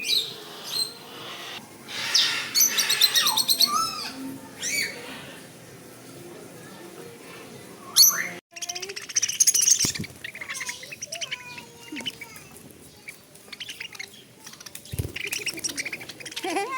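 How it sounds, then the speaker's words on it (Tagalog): Birds at a bird park chirp and squawk close by, with sharp calls and trills scattered across the clip, over someone speaking and some handling noise. "Ang ganda-ganda mo namang bird ka."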